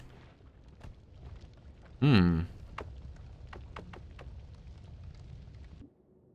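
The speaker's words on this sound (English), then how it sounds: "I'm willing to drop a bomb here" A single bomb bursts in the pixel-physics game Noita, a short loud blast with a descending rumble that stands out above quiet game ambience and sparse clicks, then the sound drops away.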